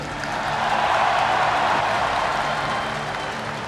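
A large audience at a Koalisi Indonesia Maju political event applauds in a sustained, even roar of clapping that swells slightly and then eases off, with no voices standing out.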